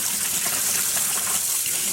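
Cool water gushing steadily into a dye pot with soap added, a dense, continuous bright rush of splashing liquid heard close up, alone and without pause.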